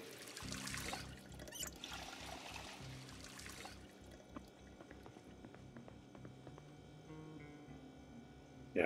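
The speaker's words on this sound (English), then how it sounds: "Fill up our water skin." A water skin is filled with water in the Project Zomboid video game, making a faint, steady trickle and pour that runs for several seconds and then thins into softer dribbles.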